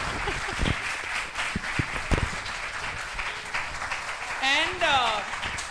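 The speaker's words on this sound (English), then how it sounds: "Bigger round of applause, I guess." Audience applause rises as a dense patter of clapping, with a few louder individual claps and a voice speaking briefly near the end.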